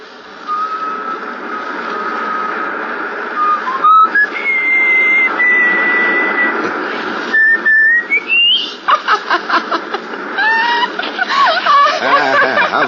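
A man whistles a jaunty tune in a 1952 radio suspense drama, the melody rising and wavering in clear sustained notes over faint background noise, breaking into quicker trills near the end.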